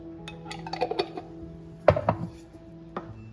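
A utensil stirs pickles into cheeseburger soup in a pot, giving scattered metallic clinks and scrapes against the pot, one louder knock midway, close and without talk.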